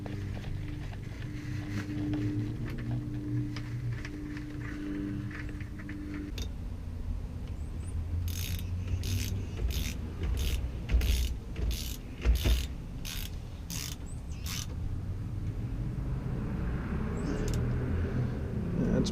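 Oil filter being screwed in by hand on a Sea Doo GTI: a run of evenly spaced ratcheting clicks and scraping turns close up mid-clip, over a steady background rumble.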